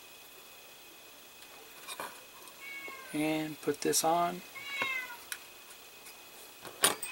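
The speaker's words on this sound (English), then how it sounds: "I have an elderly cat, and she's very needy, very whiny" An elderly, needy cat meows close by in a quiet room, several short whiny cries clustered together with a few more scattered afterward, amid light clicks and a brief spoken phrase.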